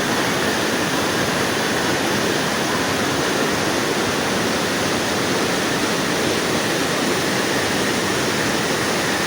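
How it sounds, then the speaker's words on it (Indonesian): Steady, loud roar of river water rushing between rocks below Curug Leuwi Tonjong waterfall, a dense unbroken wash close by with no voices. "Ini air yang masuk di sela-sela bebatuan, airnya deras nih di bawah ini"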